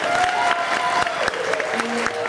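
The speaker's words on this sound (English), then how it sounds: "A big round of applause." Guests at a wedding reception applauding, a dense burst of clapping from a crowded room with a few voices and cheers mixed in.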